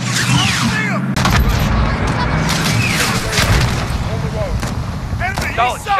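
Missile strike and heavy combat in Call of Duty: Modern Warfare (2019), embassy street battle: booming blasts and rattling gunfire crowd together loudly, with bursts of radio-style shouting layered over the chaos.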